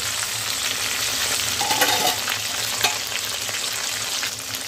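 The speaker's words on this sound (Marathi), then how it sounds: "वांगी तळून होत आहेत" Stuffed eggplants fry in a pan with a steady, close sizzle and crackle, a few soft stirring scrapes rising above the constant hiss.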